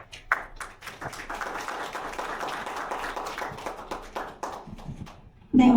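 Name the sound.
audience applause at a meeting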